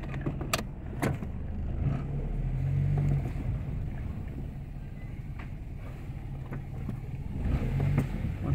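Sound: car engine revving under hard acceleration

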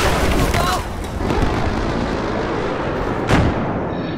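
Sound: missile explosion in the video game Battlefield 4

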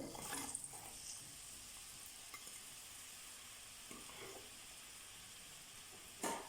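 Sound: carrots and onions frying in a pan

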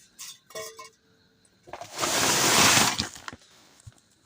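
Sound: vegetables being poured into a container

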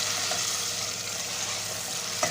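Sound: butter sizzling as it melts in the pan

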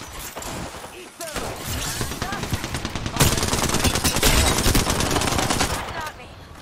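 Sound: gunfire in video game Apex Legends

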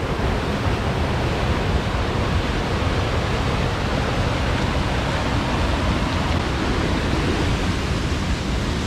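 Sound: Aira Force waterfall rushing, Lake District

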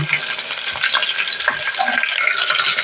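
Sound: frying green chillies, garlic and curry leaves

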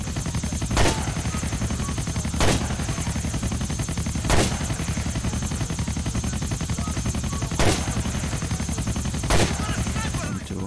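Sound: gunfire in video game GTA: The Ballad of Gay Tony

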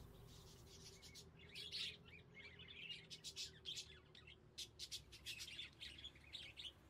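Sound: birds chirping in Exotica Pet Shop Simulator video game

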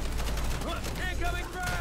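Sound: gunfire in the video game Gears 5

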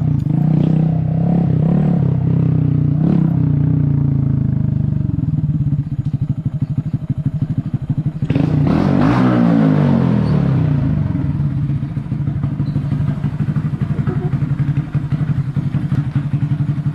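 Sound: Honda Grom motorcycle riding

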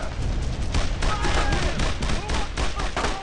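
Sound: gunfire in video game Brothers in Arms

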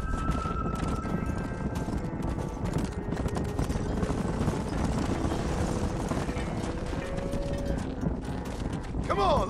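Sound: horse clip-clop and whinny in the video game Red Dead Redemption

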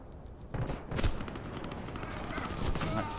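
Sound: gunfire in Warface video game

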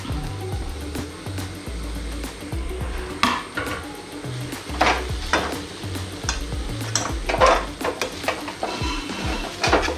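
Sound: stirring grated coconut frying in a pan with onions

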